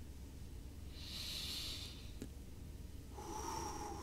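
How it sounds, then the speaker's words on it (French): Slow deliberate breathing during a guided meditation, a soft airy inhale followed by a longer exhale, close and quiet with no talking. "Et je respire."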